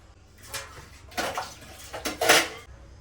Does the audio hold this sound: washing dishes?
yes